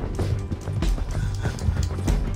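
Horse hooves clip-clopping at a run in Red Dead Redemption 2, a quick irregular patter of hoofbeats over a busy game background with no talking.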